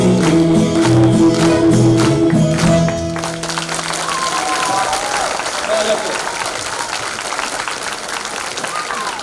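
A tamburica band finishes a song at an evening festival of Petrinja songs and tamburica music. Loud audience applause then swells and holds as a steady wash of clapping from a large crowd.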